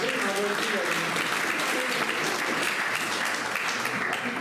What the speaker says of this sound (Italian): Un applauso. In onore di Santo Pesce.